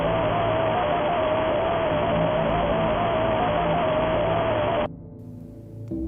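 A harsh, loud burst of noise serves as the Nightmarionne jump scare in the FNAF video game, holding steady with a thin whining tone on top before cutting off abruptly into near-silence.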